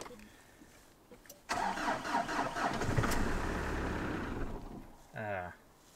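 A diesel farm truck, run on red diesel from an old rusty tank in freezing weather, cranks and catches at about one and a half seconds, then runs rough and loud near the listener, with a short burst of talk near the end.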